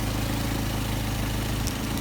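A Mercedes 190SL engine fitted with Solex carburetors idles steadily at close range, a dense, even low rumble with a slight dip in tone near the end.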